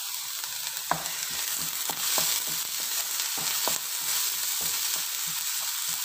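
Onion, green chili, ginger and curry leaves fry in coconut oil, giving a constant close sizzle broken by repeated sharp stirring taps and scrapes of a spoon against the pan, with no talking.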